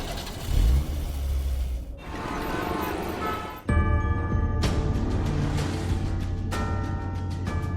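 A vehicle engine starts and revs, then drives off, its loud low rumble continuing steadily under a busy background with occasional voices.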